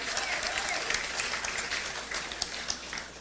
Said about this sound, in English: Give them a round of applause, a lusty round of applause.